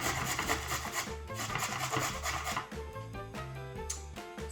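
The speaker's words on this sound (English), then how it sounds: "And now I'm gonna grate the carrot." A carrot is rubbed against a grater in quick, repeated rasping strokes. The scraping is soft and close, with a steady rhythm and no talking.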